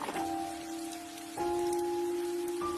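Heavy stormy rain in a horror story pours as a loud, constant hiss, layered with sustained eerie tonal drones that shift pitch partway through, and no one speaks.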